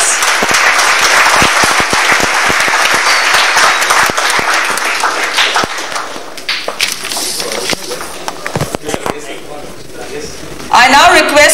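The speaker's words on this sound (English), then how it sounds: "Give him a huge round of applause." A hall audience applauds at a national-level coding competition ceremony during a floral welcome, with thick continuous clapping that gradually loosens into scattered claps, and a voice comes in briefly near the end.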